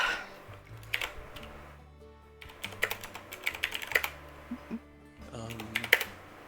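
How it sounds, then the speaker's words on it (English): Several people typing on computer keyboards at once, a continuous patter of key clicks in irregular bursts, with a voice talking over parts of it. "while you guys are typing"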